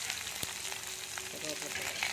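Mustard seeds, curry leaves and onion crackling in hot oil for tempering, a close, continuous sizzle with a sharp pop near the start.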